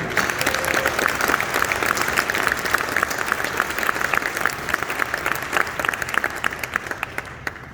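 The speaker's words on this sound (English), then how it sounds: "let's give them another round of applause" An audience at a realtors' awards ceremony applauds scholarship recipients, a dense, steady wash of clapping that carries evenly throughout and fades slightly toward the end.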